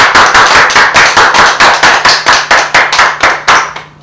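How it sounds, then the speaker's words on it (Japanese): Sharp, evenly spaced hand claps ring out loudly in a steady rhythm, about four per second, like a small group clapping in unison at a family company ceremony. "拍手。"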